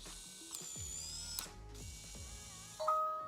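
The small motor of a eufy Security Video Smart Lock E330 whirs and ratchets in short mechanical bursts as it locks automatically, then a bright electronic beep tone sounds at the end; close and fairly quiet.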